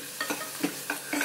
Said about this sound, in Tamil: உருளைக்கிழங்கு போட்டு வணக்குங்க.